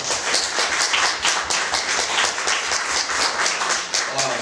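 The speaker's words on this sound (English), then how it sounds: "Let's give them a big round of applause for their task." An audience claps for the four pillars at a real estate company career sharing event, a brisk, even patter of many hands heard close and continuous.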